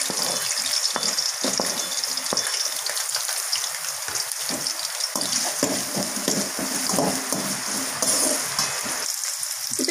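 Onions sauté in a pan for soya rice, a close, fairly loud sizzle broken up by repeated stirring scrapes and bursts of crackle across the whole stretch.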